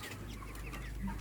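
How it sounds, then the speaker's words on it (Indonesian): Broiler chickens about 30 days old in an open raised coop on a hot day, heard as soft clucks and short murmuring calls, close but faint. "seringkali kita melihat ayam yang ngap-ngapan"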